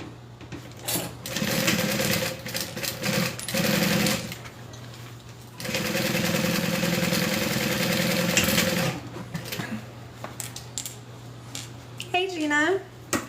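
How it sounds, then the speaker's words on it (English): A sewing machine top-stitches fabric on a beginner project, running in several steady motor bursts separated by pauses, close and fairly loud, with a person talking between runs. "we're going to open this up and we're going to top stitch"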